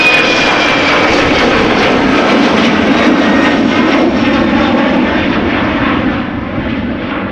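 KLM Embraer 190 jet departing Amsterdam Schiphol, a loud, continuous engine roar that holds steady close by and then slowly fades as the aircraft climbs away.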